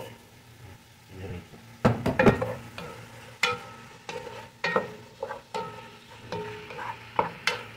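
Ingredients sautéing in a pan ahead of the tomatoes, with repeated close scraping stirs and clattering utensil hits over a soft sizzle, and a voice speaking in the background.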